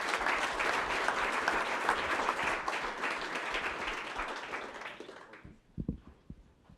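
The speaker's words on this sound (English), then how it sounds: "All right, round of applause." An audience applauds after a talk, producing dense, even clapping that fades out after about five seconds, followed by a few scattered claps and brief voices in a quieter room.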